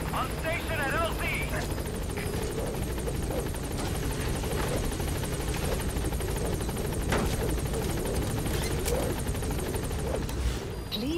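The B-Quad helicopter from Metal Gear Solid V: The Phantom Pain arrives at a landing zone, its loud, continuous rotor roar and engine whine filling the scene while radio-style voices talk over it.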